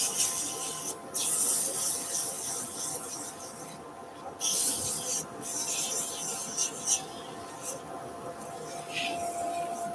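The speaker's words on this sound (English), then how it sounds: "we'll sand that front face" Sanding the front face of an epoxy resin and pencil crayon vase turned on a lathe, a steady broadband rasping hiss with brief pauses as the abrasive lifts off, continuous and fairly close.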